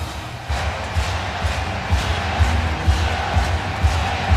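A large stadium crowd murmurs and roars at an NFL game between the Miami Dolphins and the Minnesota Vikings, a steady wash of noise with rhythmic swells, and an announcer's voice faintly beneath.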